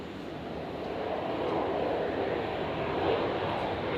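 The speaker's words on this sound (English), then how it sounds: "Qantas 556 arriving from Sydney as well." Qantas airliner arriving from Sydney at Brisbane airport on a stormy night, a steady broadband engine roar that builds slightly and holds, heard from a distance without talk.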